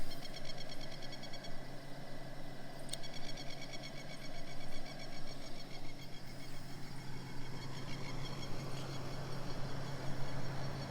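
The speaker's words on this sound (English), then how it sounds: "Birds going off their tree." Many birds call in repeated, rapid chirping trills from trees at a bush campsite by Bowen River Weir, continuous and fairly distant, over a low steady hum.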